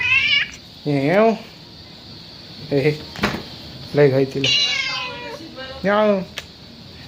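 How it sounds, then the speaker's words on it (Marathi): Loud, drawn-out cat meows, about five of them with short gaps between, close by, with a person speaking briefly in between. "बघा मांजर किती ओरडते"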